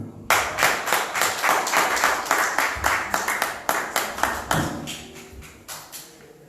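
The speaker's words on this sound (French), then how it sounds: "Acclamons pour la parole du Seigneur." A church congregation claps together in a steady, fairly loud burst of applause that holds for several seconds, then thins into scattered claps before fading out.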